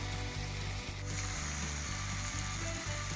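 Prawns with coriander leaves fry in a pan with a steady close sizzle, under a rhythmic mechanical clicking pulse, and no talking.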